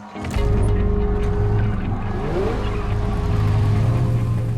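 A Plymouth Barracuda stunt car with a fuel-injected engine roars into a loud, sustained rev, its pitch climbing and holding strong from start to finish.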